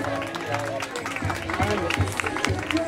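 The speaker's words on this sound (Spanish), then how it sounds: "Un fuerte aplauso para Aki, hembra de 3 años de Schnauzer miniatura" Applause and crowd murmur greet Aki, a three-year-old female miniature schnauzer, at a pet contest in Eibar, scattered claps mixed with chatter and a voice speaking over them.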